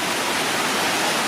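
Dense, steady rush of flowing water along the San Antonio Riverwalk, loud and close, filling the short moment with unbroken noise.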